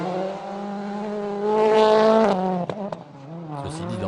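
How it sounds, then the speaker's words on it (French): A rally car at the 2012 Wales Rally revs hard into a handbrake turn, its engine climbing loud and close before cutting sharply, followed by short choppy bursts of throttle and gravel noise. "Allez, coup de frein à main, c'est parti."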